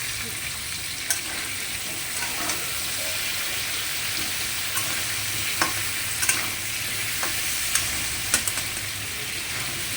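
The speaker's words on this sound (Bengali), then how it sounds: "দিয়ে আলুটাকে আমি ভাজা করবো।" Potatoes frying in oil with salt and turmeric, a steady, moderately loud close sizzle that runs throughout, dotted with small clicks and taps from stirring.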